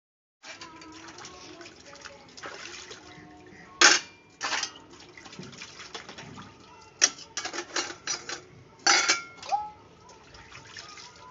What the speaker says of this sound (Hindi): तो इसलिए मैं बर्तन धो रही हूँ।